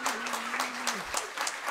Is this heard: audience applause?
yes